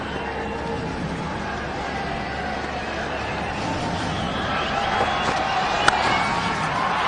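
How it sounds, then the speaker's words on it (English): A large cricket crowd cheers India's first runs in an Australia versus India match, a broad, steady roar of stadium noise that swells slightly toward the end. "And just listen to the crowd"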